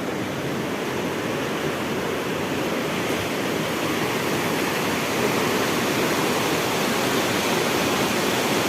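A stream rushes continuously, a dense, even roar of flowing water that stays loud and unbroken.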